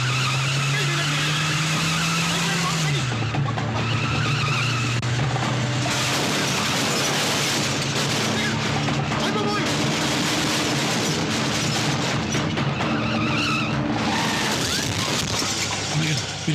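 Car speeding with tires skidding in a Telugu action movie scene, a loud, continuous screech and engine roar that runs through the whole stretch under dramatic sound, with voices now and then.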